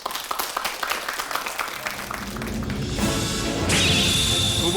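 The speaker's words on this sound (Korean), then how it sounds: "박수 보내주십시오" Studio audience on a Korean KBS storytelling comedy show applauds as a team is welcomed to their seats, a dense wash of clapping building louder toward the end with a brief musical sting over it.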